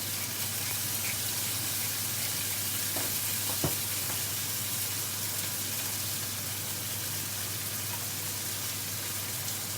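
Ribeye, sirloin and fillet beef steaks fry in a hot pan, a steady loud sizzle filling the whole stretch with one brief tap or clink partway through and no voices.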